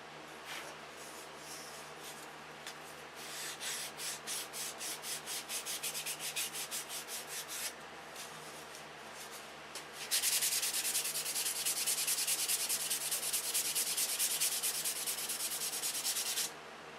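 Steady, rhythmic scraping of sandpaper on model aircraft wood coated with clear dope filler, close up, in short strokes at first, then a louder, continuous rasping run.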